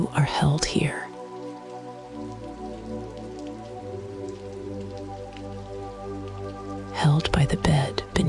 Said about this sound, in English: held by the rain keeping its calm rhythm on the glass